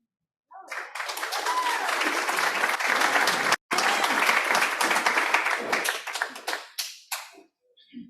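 Sustained audience applause with some cheering at a collegiate alumni awards ceremony, dense and steady for several seconds with a brief break, then thinning into scattered claps before fading.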